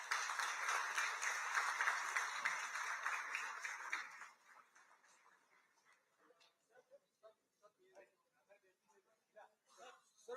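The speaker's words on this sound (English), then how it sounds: "May we have a big round of applause for our chief guest." Audience at a warship crest ceremony in Surat gives the chief guest, Gujarat Chief Minister Bhupendra Patel, a round of applause that is loud at first, then thins to scattered claps after about four seconds.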